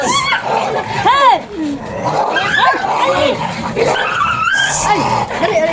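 A household dog barks in bursts while people talk and exclaim nearby, the barks loud and close and mixed in with their voices.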